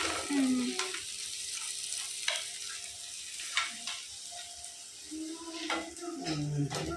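A spoon stirs the frying base for a chicken curry in a pan, producing a soft, steady sizzle broken by repeated scrapes and clinks against the metal, heard fairly close at a low level.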